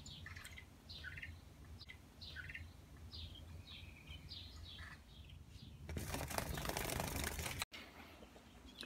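Faint, repeated bird chirps from outside a window, heard indoors in a quiet room alongside young robins, followed near the end by a brief burst of rustling or flapping noise.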